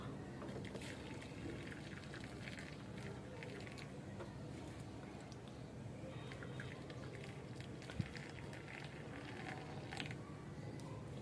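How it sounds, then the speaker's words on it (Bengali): Tea strained and poured into a mug, a soft continuous trickling pour with faint clinks and mechanical creaks, steady and close throughout. "আর হচ্ছে আমি চাটা ছেঁকে নিব। এই যে ডালতেছি"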